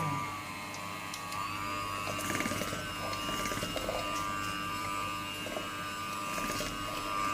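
Cookie dough for kue semprit (spritz cookies) being beaten with an electric mixer, a continuous whirring motor hum with rattling and knocking of beaters against the bowl.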